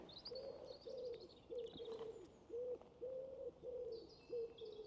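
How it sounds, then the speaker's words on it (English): Repeated soft pigeon coos at a West Midlands railway station in a steady rhythm, each a low hollow phrase, with faint higher bird chirps in the background. "I've always called that the holiday bird, but I found out last year that that's actually a pigeon"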